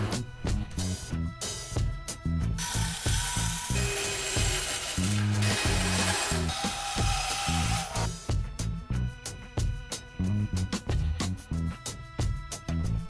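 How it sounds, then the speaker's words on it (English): A bandsaw fitted with a wood-cutting blade slices through wood pieces for the front of a desk, a steady loud whine broken by bursts of rhythmic knocking and rattling, with a brighter sustained cutting passage in the middle. "I had changed the metal cutting blade on my bandsaw to a wood cutting blade."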